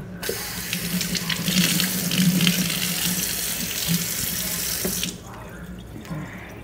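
Water runs steadily from a kitchen tap into a sink while lobster is being cooked, a loud continuous splashing rush that cuts off abruptly near the end, leaving quieter room noise.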